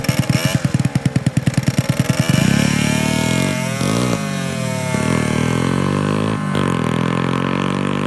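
A 125 cc motorcycle engine revs before a season-closing race, starting with rapid pulsing blips, then climbing into loud sustained revving with repeated rises and drops in pitch, close to the microphone.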